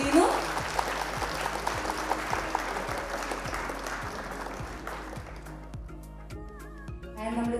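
A crowd at a betrothal celebration applauds warmly as two sisters come up to the stage, with sustained close clapping over a steady beat that fades out near the end as a voice begins speaking.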